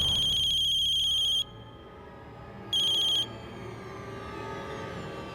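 An electronic phone ringtone trills loudly in two bursts separated by a pause, over a low background murmur in a police station scene from a TV drama.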